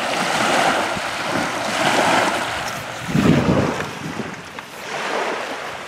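Strong, gusty wind buffets the microphone over choppy, muddy reservoir water slapping and washing nearby during a fishing trip, a continuous roar swelling and easing with no talk.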